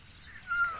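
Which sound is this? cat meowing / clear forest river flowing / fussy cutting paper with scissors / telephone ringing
cat meowing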